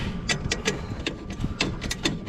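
Wrench clicks on the bottom bolts of an exhaust fan being tightened with a half-inch wrench, a string of short, sharp, evenly spaced ratcheting ticks close by over faint background hum.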